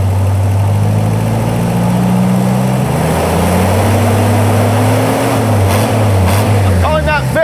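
A Willys engine, just treated with an oil additive for a noisy fault, runs loud and close with a steady low drone, its pitch rising and falling as the revs are held and varied.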